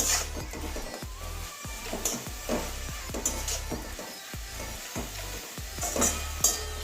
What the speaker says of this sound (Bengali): আমি ভাজা করছি